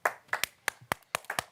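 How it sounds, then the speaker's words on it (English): A lone person claps at an irregular pace during a live Formula E race watch-along, giving about nine sharp, close, dry hand claps with short gaps and no talking over them. "Lone clap."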